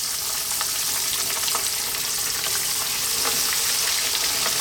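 Fish for an Arab-style sheri fry sizzle loudly and steadily in hot oil, a dense close-up crackle with scattered pops throughout and no talking.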